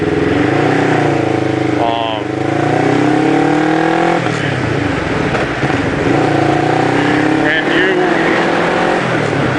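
Motorcycle rolling slowly through tight right-left turns, its engine droning close with small shifts in pitch and a rider talking over it throughout.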